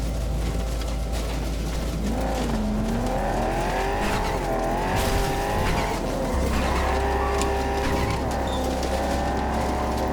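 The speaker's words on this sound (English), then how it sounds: "we had an infinite crash sound effect" Car crash effect from Cyberpunk 2077 gameplay, a continuous grinding, skidding roar with wavering tire-squeal tones and engine noise, loud and sustained throughout without letup.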